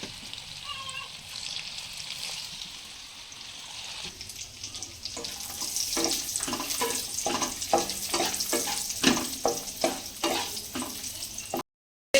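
Pakoras frying in oil over a low flame give a soft, steady sizzle that grows busier partway through, with repeated scraping and stirring taps at close range and a voice talking over it.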